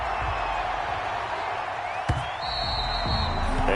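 A stadium crowd roars and cheers at an NFL game between the Las Vegas Raiders and the New York Jets in a PS4 football video game, a steady, dense wash of crowd noise with no one talking.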